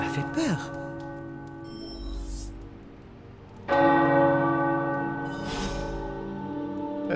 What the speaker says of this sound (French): Les cloches. J'adorais les faire sonner quand j'étais enfant.